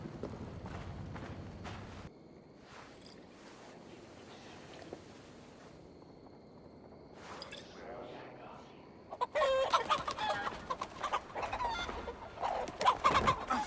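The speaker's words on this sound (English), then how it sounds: "They're chasing chickens." Chickens clucking in Assassin's Creed Valhalla, bursts of clucks and squawks that grow loud and busy toward the end over quieter game ambience, with no talk over them.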